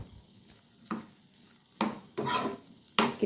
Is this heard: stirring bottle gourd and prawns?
yes